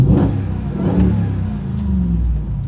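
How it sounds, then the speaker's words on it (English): A RAM 1500 TRX revs hard through an MBRP Race Profile black cat-back exhaust, close and loud, with two quick throttle blips followed by a deep, rumbling settle. "I don't normally start with a rev, but I'll tell you what. This exhaust system is just so crisp."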